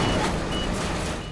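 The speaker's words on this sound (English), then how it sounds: "I'm hearing the alarms." Reversing alarm on a heavy rescue truck working a tractor-trailer recovery from a river on a highway, beeping steadily and loudly over a dense rumble of diesel engines.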